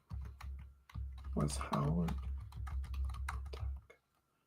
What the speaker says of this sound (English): I'm typing in Google and it comes up